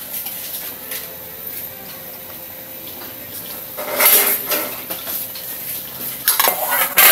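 Pork head is stirred in a pot with Mang Tomas sauce and pork stock, first a soft simmering hiss, then loud scraping and clinking of a utensil against the pot in bursts toward the end.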